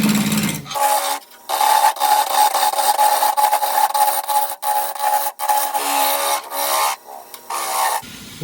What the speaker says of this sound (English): Rough down with the skew.